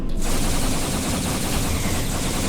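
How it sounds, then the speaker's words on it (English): Rapid, continuous volley of torpedo fire from a starship in the Star Trek Online space game: dense, loud, sustained burst of overlapping launches with no talk. "if I select the simple front-end torpedo, you get quick fire torpedo spread"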